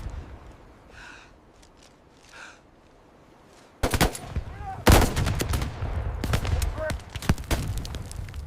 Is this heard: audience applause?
no